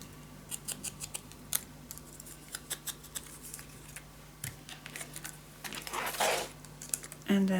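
Scissors snip paper for a handmade travel suitcase mini album, a series of short, crisp close cuts with small pauses between them, quiet handling noise and faint talk in the background.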